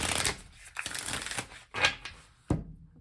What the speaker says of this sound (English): I'm going to shuffle and then just go ahead and cut your guys' stack.